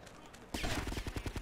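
Rapid gunfire in the game GTA: Vice City erupts after a quiet half second, a dense run of evenly spaced shots with loud, close reports throughout.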